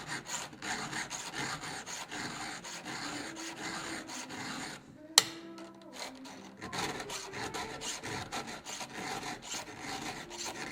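A round file strokes across a chainsaw chain's cutters in a steady rhythm of rasping scrapes, close and fairly quiet, with a sharp metallic clank midway and a brief pause before the filing resumes.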